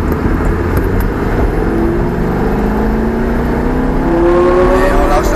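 A Lamborghini Gallardo accelerates on the ICAR race circuit, its engine note climbing steadily in pitch as it revs up, loud and close from inside the car, with an instructor talking over it.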